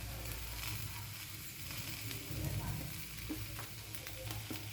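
Potatoes frying with ground cumin and coriander in a kadai for a pumpkin, pea and potato curry, giving a steady close sizzle with occasional stirring scrapes and no talking.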